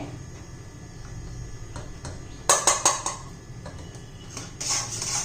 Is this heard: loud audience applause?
no